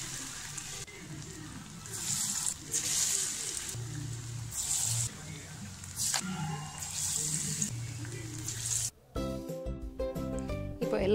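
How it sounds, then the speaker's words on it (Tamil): Sweet corn vadas go one by one into hot oil for deep-frying, producing a close hissing sizzle that swells and dips with each drop, before a sudden switch to a different sound near the end. "இப்போ ஆயில் நல்லா ஹீட்டாக இருக்குது. இப்போ ஒன்று ஒன்றா எல்லாத்தையும் போட்டு எடுத்துடலாம்."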